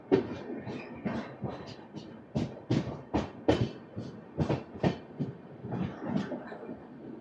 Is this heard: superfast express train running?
yes